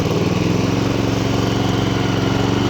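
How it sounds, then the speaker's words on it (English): Honda HRX476 lawnmower engine runs close and loud with a steady, even pulsing putter throughout, no voices over it. "Pull the cord and it should start."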